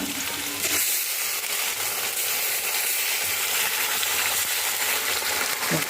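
Onions fry to a reddish brown in a pan while making a dense, continuous sizzle close by, with occasional stirring scrapes and no voices.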